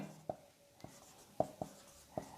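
Chalk or marker writing on a classroom board, with a handful of faint, sharp taps and short strokes spaced irregularly over a quiet background.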